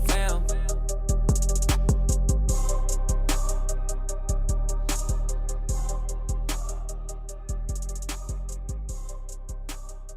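A rap song, a beat with deep sliding bass hits and crisp rapid hi-hats at a steady tempo, played loud without vocals standing out.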